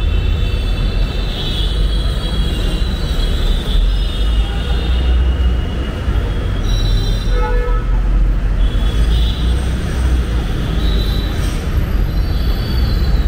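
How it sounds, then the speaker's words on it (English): Busy Delhi street with vehicle horns tooting in repeated short bursts over a constant loud rumble of engines and traffic, heard from the roadside. "Lots of honking, which is once more common tradition of our country."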